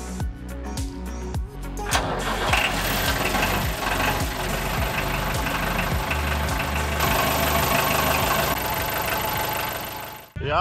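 Old engine with a cast-iron cylinder head cranks with rapid pulsing chugs, then catches and settles into a loud, steady, throbbing idle that runs on until it suddenly cuts off.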